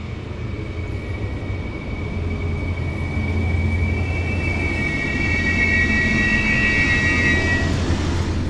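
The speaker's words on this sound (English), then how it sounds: "here we can see our Lint 41 arriving." A Lint 41 diesel multiple-unit train pulls into the Bad Salzschlirf station on the route to Fulda. There is a steady low rumble of rolling wheels, and high-pitched brake squeals rise toward the end. It is heard outdoors, close and constant, with no voices.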